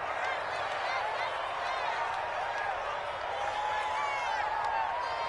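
A stadium crowd in the Madden NFL 21 football video game reacts to a penalty call with a steady, dense roar of voices that holds at the same loud level from start to finish.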